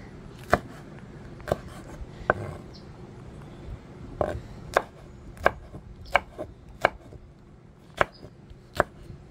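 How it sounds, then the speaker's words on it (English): A knife chops mild, fresh farm peppers on a board, producing about a dozen crisp, close strikes at an uneven pace that quickens toward the end over a quiet background. "And now we're gonna cut up some nice pepper to put in there."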